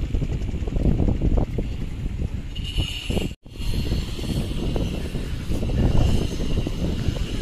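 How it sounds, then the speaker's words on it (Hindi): Strong wind blows at the river ghats in Varanasi, a loud gusty rumble rising and falling continuously, with one brief dropout midway. "इसमें आप देख रहे हैं हवा बहुत तेज चल रहा है इस समय"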